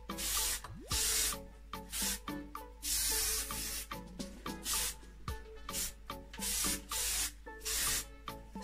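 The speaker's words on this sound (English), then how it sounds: "I've got my favourite hairspray ever, so it's the Masterpiece Hairspray from TG. I'm just going to give it a good spritz over." TIGI Masterpiece hairspray is sprayed over styled, straightener-waved hair in a series of short hissing bursts with brief pauses between them, close and fairly quiet.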